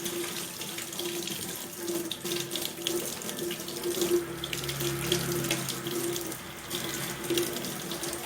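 Tap water running steadily into a sink while soap is rinsed off the hands, a continuous close splashing hiss with small fluctuations as hands move under the stream, no talking.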